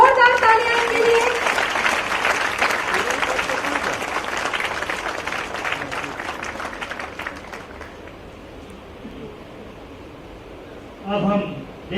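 Audience at a Raipur ceremony honoring meritorious students applauds strongly, a dense wash of clapping that gradually fades, with a voice speaking briefly near the end.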